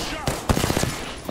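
Rapid automatic gunfire in Apex Legends, a tight run of close, punchy shots under a short stretch of talk.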